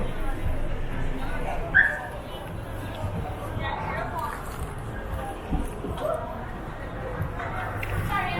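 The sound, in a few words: dog barking on a street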